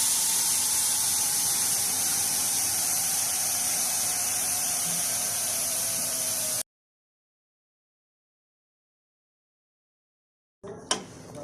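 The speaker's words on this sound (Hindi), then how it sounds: "अब मैं प्रेशर कुकर को खोलती हूँ।" A pressure cooker of daal gosht releases steam in a loud, continuous hiss with a high whistling edge for about six seconds. Silence follows, then a short clatter of the lid.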